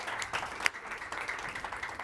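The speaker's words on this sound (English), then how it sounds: "let's give them all an official big round of applause" An audience at a panel discussion claps in a short burst of applause, a dense patter of hands heard from across the room, moderately loud and fading slightly over two seconds.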